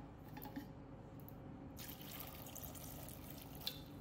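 Water is poured into a vessel of soaked chickpeas, a faint, quiet splashing fill that swells about halfway through and runs on steadily, with a small drip-like tick near the end.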